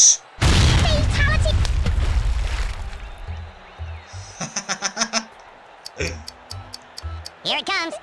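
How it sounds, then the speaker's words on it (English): A grenade explodes in the Worms Reloaded video game as a loud boom that rumbles and fades, followed by scattered game clicks and pops while someone talks excitedly over it. "I'm gonna try again with a grenade, see if I can take out those guys down there."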